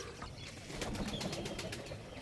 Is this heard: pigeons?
yes